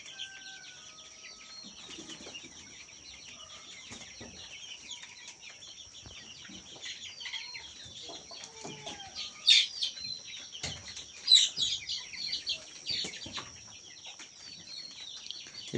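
Local backyard chickens cluck and chirp at a distance, soft scattered calls over a faint steady background, growing a little louder and busier toward the end.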